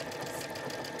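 Domestic sewing machine running a back-and-forth stretch stitch on skirt fabric, a steady close whirring motor hum with fast regular clatter throughout, no talking.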